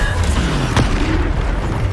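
A Bombarda spell detonating in Hogwarts Legacy, a loud, deep boom with a sustained rumbling body and a brief sharper crack midway.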